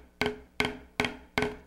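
Fast drumstick double bounces played with a tightly squeezed fulcrum: four crisp, sharp strikes, each a tight pair of hits that almost merge, evenly spaced and close up with no talking.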